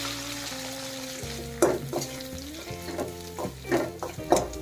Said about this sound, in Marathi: मी आता तेल गरम झालं की त्याच्यात टाकायचं कढीपत्ता त्याच्यात टाकायचंय वाटलेलं वाटर